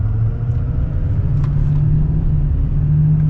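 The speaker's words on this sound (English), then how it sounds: "It's got the right diesel sounds, but it's not obnoxious." Lifted GMC Sierra 3500 AT4 diesel truck idling or cruising with a steady, deep low rumble from the engine and exhaust, fairly quiet and even throughout, with no voices.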